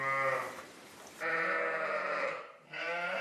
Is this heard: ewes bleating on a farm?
yes